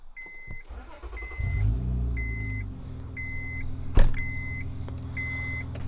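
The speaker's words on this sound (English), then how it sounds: "so you just have to put your foot on the brake and press the start button to go." A 2007 Honda Accord V6 starts by push button: a brief starter whir, then the engine catches with a rising rumble that settles to a steady idle, while an interior chime beeps repeatedly and a sharp click lands midway.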